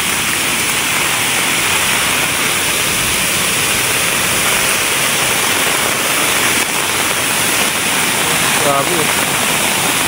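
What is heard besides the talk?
strong rushing river current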